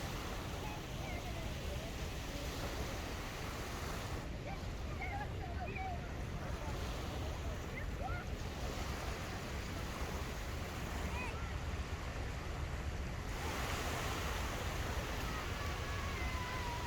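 Steady wind-blown surf washes continuously onto Dunkirk beach, a broad, unbroken roar of waves with gusts buffeting the microphone throughout.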